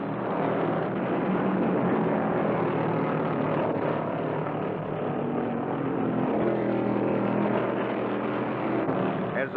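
Stock car racing engines roar at Bristol during the 1975 NASCAR Winston Cup Southeastern 500, including Richard Petty's car, as a sustained loud, droning engine howl that stays dense and steady throughout with no speech.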